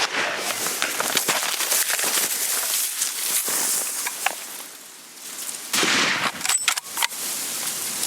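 Rifle shots during a brown bear hunt in Alaska ring out as several sharp, loud cracks spread across the clip, with a heavier blast near the end over rustling outdoor noise.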